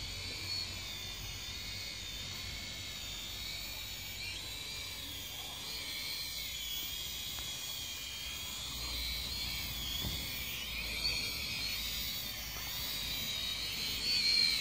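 A small Syma toy drone flies outdoors, giving off a continuous high-pitched whine from its rotors that holds steady at moderate volume, with faint outdoor noise and no talking.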